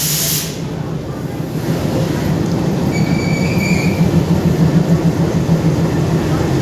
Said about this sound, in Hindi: ये दो शंटिंग इंजन है तुगलकाबाद।